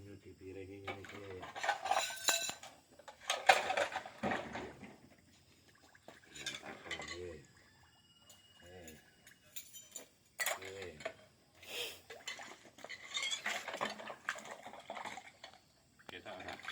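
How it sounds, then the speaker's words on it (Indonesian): Plates, bowls and cutlery clink and clatter in bursts during dishwashing, with splashing water and a person talking intermittently nearby. "carane nyuci piring iki ngene iki."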